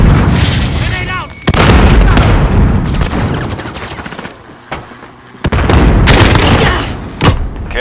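Grenade blasts and heavy gunfire in Call of Duty: Modern Warfare team deathmatch, loud booming explosions and rattling shots in bursts, with game voice callouts over the action.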